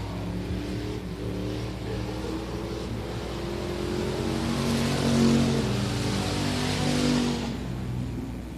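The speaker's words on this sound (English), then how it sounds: "Looks like we have some of our BTS Concrete Thunder cars out there." BTS Concrete Thunder race cars circle the Big O Speedway track, their engines droning and swelling as they pass. A loud, sustained roar builds to a peak mid-way, then eases, with no talk.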